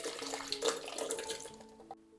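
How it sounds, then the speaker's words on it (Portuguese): Water being poured into a blender over a can of preserved corn, a broadband watery rush running steadily at close range for about two seconds and tapering off at the end, with no talking. "Agora eu vou colocar água até cobrir."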